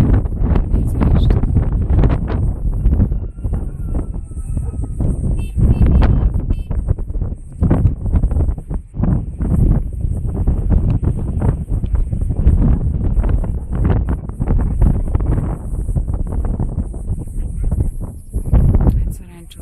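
Strong wind buffeting the microphone on a hot mountain walk toward Profitis Ilias, loud irregular low rumbling gusts that surge and fade throughout, close and harsh.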